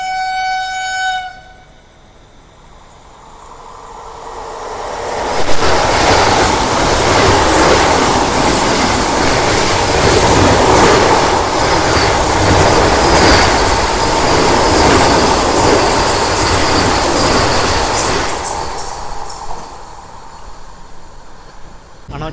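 The Cherlapalli to MGR Chennai Central Superfast Express, heard from aboard after departing Piduguralla, with a brief horn blast at the start, a quiet lull, then a loud sustained rumble of wheels and clattering carriages that fades near the end.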